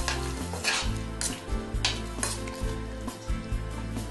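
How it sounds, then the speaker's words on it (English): Thai green curry bubbles and simmers in a pot, a steady sizzle broken by repeated utensil stirs and clinks against the pan. "You're gonna wait till the curry start boiling."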